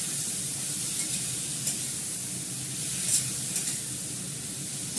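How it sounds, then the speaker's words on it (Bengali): Green chillies fry in a pan with cilantro, giving a soft, steady sizzle and hiss throughout, with a few faint clinks and stirring sounds. "দেবো কাঁচা লঙ্কা, ভালো করে ফ্রাই করবো।"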